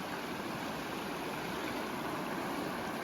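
Shallow river water at a backcountry crossing flows in a steady, moderately quiet rush as someone wades barefoot through it knee-deep; no voices.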